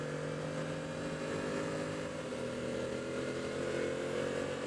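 A Yamaha motorcycle engine drones while riding, holding a steady, loud, close roar with only slight swells in throttle, mixed with wind rush and no speech.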